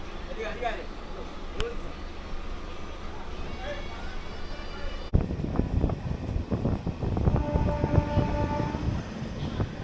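A local train rumbles steadily on the route out of Howrah toward Andul, with continuous wheel and carriage noise, wind buffeting the microphone, and a sharper jolt partway through.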